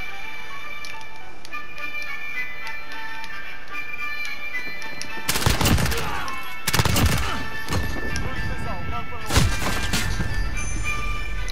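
A cruise missile explodes on a roof in Call of Duty: Modern Warfare, heard as a few loud, sharp crashing bursts in the middle of steady game noise and music, each with a short rumbling tail.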